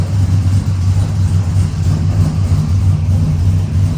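A car engine fitted with stainless headers and a cold air intake idles steadily and loudly up close, a deep, throaty rumble with a slight pulsing beat and no talking.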